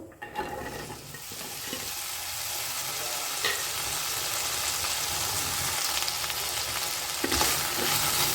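Round-sliced okra frying in a pan for a Havyaka-style bendekayi dish, with a loud, continuous sizzle and crackle and occasional stirring scrapes, close up and without speech.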